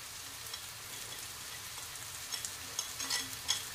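Bedgi chili powder, red chili powder and pav bhaji masala roasting in oil in a pan: a steady, quiet sizzle with faint crackles that grow busier toward the end, with a few soft stirring scrapes.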